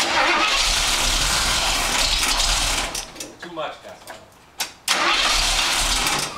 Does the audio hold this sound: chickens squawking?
no